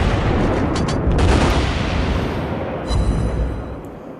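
Heavy naval guns of the Gneisenau battleship firing in the video game World of Warships Blitz, a dense loud rumbling barrage with booming blasts merging into continuous roar.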